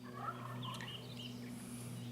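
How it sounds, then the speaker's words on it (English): A neighbor's raised turkeys gobbling from down the way, a fluttery rising-and-falling gobble somewhat distant over a steady low hum from a smoker-grill cooking outdoors. "It's a neighbor's turkey."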